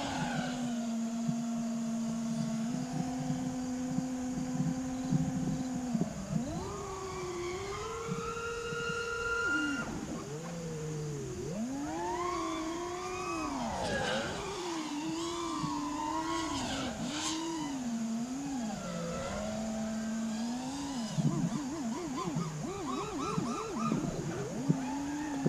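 Motors of an FPV quadcopter drone in smooth forward flight whine continuously, their pitch gliding up and down with throttle changes, loud and close with no talking.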